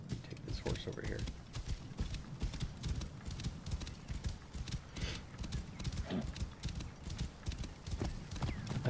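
Rapid hoofbeats of a galloping horse drum steadily, with a brief whinny, while a person talks over the action, in the video game Assassin's Creed Origins.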